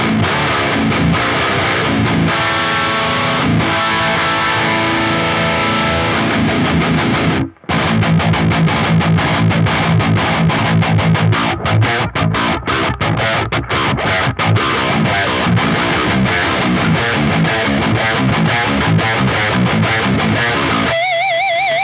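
Loud, saturated high-gain electric guitar chugs and sustained chords through a Neural DSP Archetype: Nolly amp with a Maxon OD808 overdrive in front, thick and aggressive, playing continuously with a brief cut partway through.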